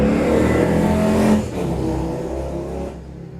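A motorcycle passes on the street outside a workroom, a loud engine roar that holds steady, dips briefly, then fades as it moves away.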